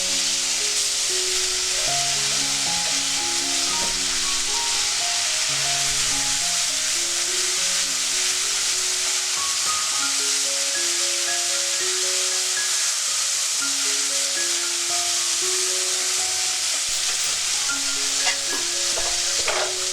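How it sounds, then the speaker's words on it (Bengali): Spice paste with bay leaf and cumin sizzles loudly and steadily in hot oil while being stirred, a continuous frying hiss with a melodic tune playing underneath. "তেজপাতা আর একটু জিরে দিয়ে যে পেস্ট মশলাটা ঢেলে দিলাম।"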